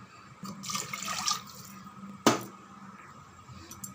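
Water from a tumbler splashes and trickles into a pot of rice in a short burst, followed by a sharp clink of metal, with a faint hum in the background.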